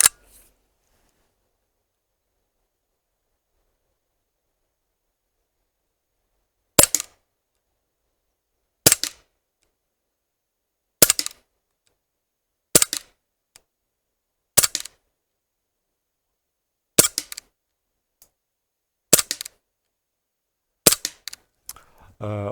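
A CO2 4.5mm blowback air pistol fires eight sharp, separate shots at roughly two-second intervals, each a crisp crack against silence; blowback is weakening and no longer cocks the hammer on the last shots.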